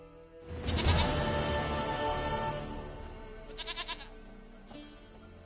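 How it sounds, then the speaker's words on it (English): A goat in the video game Witcher 3 gives a wavering bleat amid a busy game soundscape, followed by a shorter, quieter bleat a few seconds later. "Goat of mine, dearest,"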